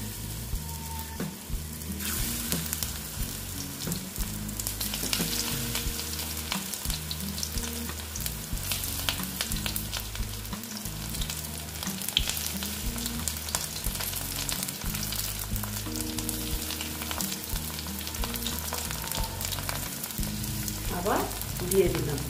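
Pui shak (Malabar spinach) pakoras deep-frying in hot oil, a steady close sizzle with bubbling crackle running throughout, with occasional faint stirring clinks and no talking.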